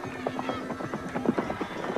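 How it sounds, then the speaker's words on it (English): Riderless horse galloping around a race track after throwing its jockey, a quick irregular run of hoofbeats, moderately close, with a faint hum and crowd noise underneath. "his horse continues around the track without him"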